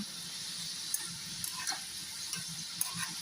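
Kodubale, ring-shaped rice-flour snacks, frying in hot oil in a pan: a steady bubbling sizzle with small crackles and pops scattered throughout, no voices.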